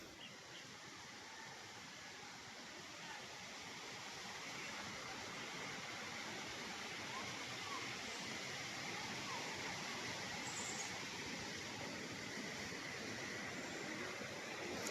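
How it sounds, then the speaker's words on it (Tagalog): Small streams babbling across farm land with many water sources and rocky ground, a steady, broad rushing wash of flowing water that grows slightly louder and then holds, with no other distinct sounds. "yung ingay na yon, yung huni. Yun, lagaslas po yun ng tubig."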